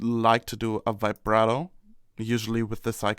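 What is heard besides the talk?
No everyday noises stand out.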